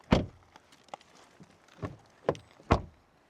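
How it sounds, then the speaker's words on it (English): Doors of a facelifted 2026 Volvo XC60 T8 plug-in hybrid shut several times, each a solid close thud with softer clicks between, spaced apart in a quiet setting without speech. "Door closing sounds."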